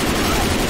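Dense, continuous gunfire from Left 4 Dead 2 roars close and loud throughout, a steady barrage with no clear gaps.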